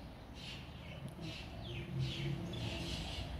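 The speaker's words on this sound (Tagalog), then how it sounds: "Maingay yung mga ibong ko." Pet birds kept in a home orchid garden chirp in faint, repeated short calls scattered over a quiet background, several bursts following one another irregularly.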